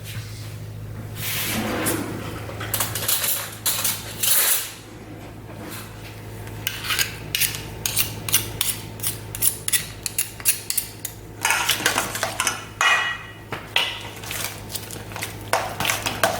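Flatbread topping being mixed in a bowl, a utensil scraping and rasping against the sides in steady repeated strokes, close and moderately loud, with no one talking.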